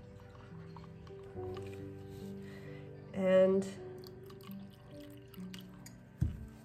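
Water is poured into an 18-ounce paint mixing cup that already holds some product, making a short splashing trickle midway over a quiet background, with a person speaking briefly.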